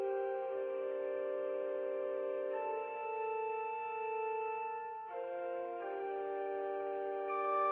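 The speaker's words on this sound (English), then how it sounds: "If you are hearing organ music," Soft, quiet organ music from the video game Kentucky Route Zero, slow sustained chords changing a few times with no talk over them.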